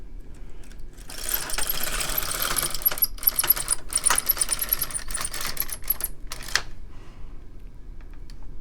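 An LK 150 knitting machine carriage is pushed across its bed knitting rows, giving a rattling, clicking run of a few seconds that stops, starts again briefly, then goes quiet.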